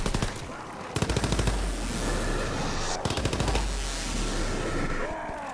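Rapid automatic gunfire from a German AK-style rifle in a first-person shooter game, loud bursts of repeated shots starting about a second in and again near three seconds, with continuous game noise between.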